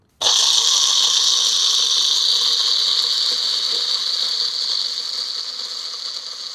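An electric mixer grinder switches on abruptly and whirs at a loud, steady high pitch while grinding black cumin seed and tree turmeric into powder, its tone easing slightly as it runs.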